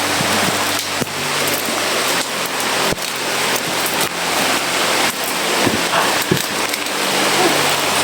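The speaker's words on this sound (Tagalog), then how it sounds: "Grabe din na lakas ng ulan." Heavy rain pours down steadily in a dense, loud hiss, with occasional thumps and faint muffled sounds beneath the downpour.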